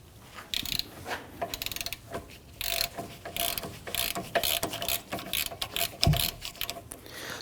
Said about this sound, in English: And use our 15mm socket on our ratchet.